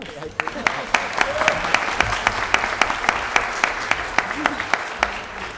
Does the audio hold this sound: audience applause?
yes